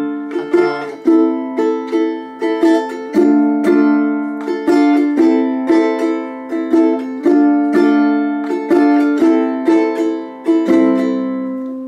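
A ukulele strums a steady rhythmic pattern for about twelve seconds, with clear, bright chords repeating in a lively down-up island-strum groove, played alone and close.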